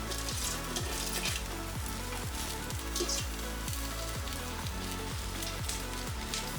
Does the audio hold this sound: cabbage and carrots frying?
yes